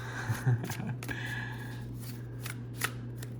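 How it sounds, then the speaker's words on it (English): Tarot cards with gold-gilded edges being shuffled in short riffling bursts, crisp and close, with a low steady hum underneath. "So I'm shuffling it ever so carefully, but it does shuffle very nice"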